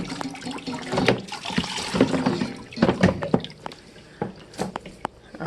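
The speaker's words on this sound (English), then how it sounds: "Then we're gonna come back and just rinse it real good." Water rinsing a scrubbed floor during janitorial stripping and waxing, with a steady splashing wash broken by drips and irregular spattering, close by and moderately loud.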